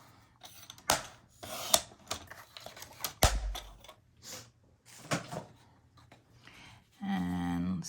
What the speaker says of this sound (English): we're going to cut off a 1/2 inch